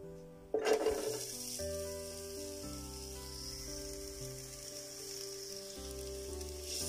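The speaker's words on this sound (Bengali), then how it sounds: "পেঁয়াজগুলোকে খুব গোল্ডেন করে ভাজবো না," Chopped onions and garlic hit hot olive oil in a pot, setting off a sudden loud sizzle that settles into a steady, even frying hiss under background music.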